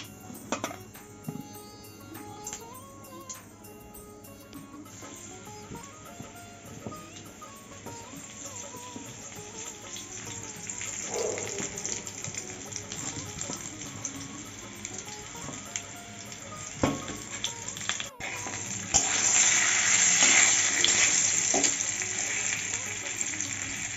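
Mango pieces dropped into hot oil with fried tempering spices for a sweet-sour-spicy mango pickle, a soft crackling sizzle with stirring that grows louder and hissier toward the end, no talking.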